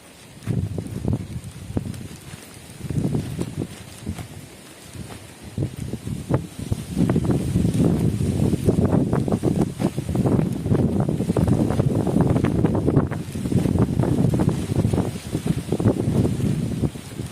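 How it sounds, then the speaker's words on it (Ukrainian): Outdoor wind gusts buffet the microphone in a low, blustery roar that swells and eases in waves, growing stronger and more sustained in the second half. "вітер."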